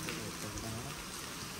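Steady rain falls outside a village home, a soft continuous patter of drops on surfaces heard alone and fairly faint throughout.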